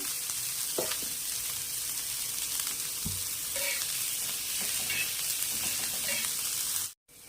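Onions fry in oil in a pan for a homemade onion chutney with green chilli, giving a steady close sizzle with occasional stirring clinks and no speech.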